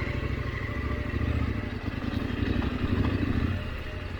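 An adventure motorcycle rumbles along a beginner dirt trail at a slow, steady pace, its engine close and continuous with clattering from the rough ground.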